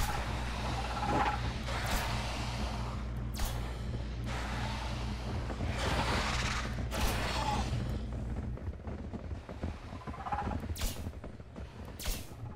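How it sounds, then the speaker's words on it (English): Scattered gunshots in the Osiris New Dawn video game crack at irregular intervals over a low mechanical hum, some near, others softer and further off. "I think they're attracted by the sound of the gunfire."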